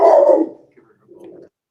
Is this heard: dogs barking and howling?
yes